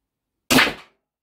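A single sharp shot from an Umarex HDS 68 T4E caliber .68 gun firing steel-reinforced rubber balls, a loud abrupt crack with a short decaying tail, alone in silence.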